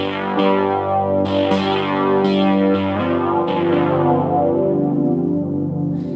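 A sustained Roland GM-800 PolyKey synthesizer keyboard tone, heavily processed with chorus, distortion and echo, swells and shifts as chords change, loud and alone.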